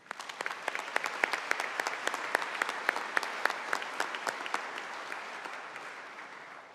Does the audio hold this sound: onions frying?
no